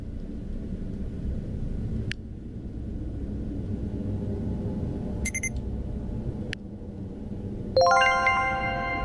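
A cell phone ringing in the horror game Slaughter-Me-Street, a bright electronic ringtone bursting in loud near the end over a low droning rumble, after a few isolated sharp clicks and chimes.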